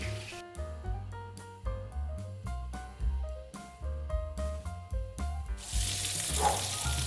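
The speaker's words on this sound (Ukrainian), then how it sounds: "підсмажуємо наші котлети по 2-3 хвилинки з кожної сторони, не прикриваючи кришкою" Meat cutlets sizzle in hot oil in an uncovered frying pan, a steady close crackle running beneath music and swelling louder toward the end.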